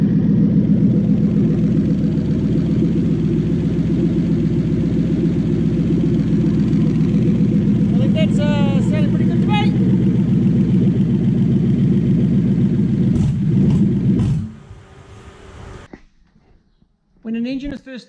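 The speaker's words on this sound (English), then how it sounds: "Engine is first started, I don't stress too much if it has the odd burble." A Toyota 1UZ-FE V8 fitted with a flipped reverse intake manifold runs on an engine stand, holding a steady, rumbling idle for about fourteen seconds before it shuts off abruptly and leaves near silence.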